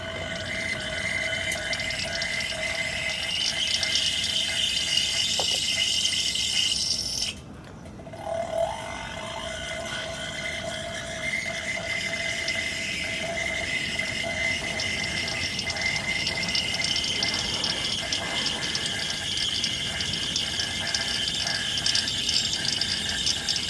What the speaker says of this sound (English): You can hear the fluid going in there.